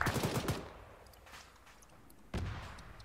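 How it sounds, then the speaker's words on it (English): Gunfire in the military shooter Arma 3, a rapid automatic burst at the start followed by quieter scattered distant shots and another heavy burst near the end, alone without talk. "They're firing at Rube."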